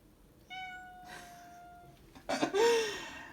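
A pet cat meows on command, a harmonic cry in the first half followed by a louder, closer meow near the end, with quiet room sound between.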